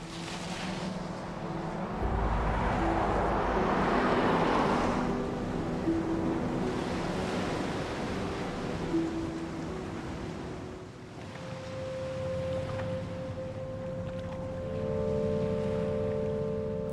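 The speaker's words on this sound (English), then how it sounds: "Out in the ocean, Will has been struggling to stay afloat for" Open-ocean wind and waves roll steadily for the whole stretch, a broad rushing wash with surges and a low rumble, heard alone with no voices.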